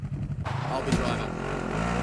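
A vehicle engine in Call of Duty Warzone revs up and holds a rising drone after a brief quieter start, with a voice in the clip.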